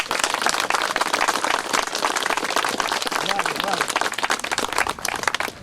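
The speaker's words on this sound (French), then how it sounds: "et vous pouvez les applaudir bien fort." An audience applauds with dense, steady clapping throughout while voices carry underneath.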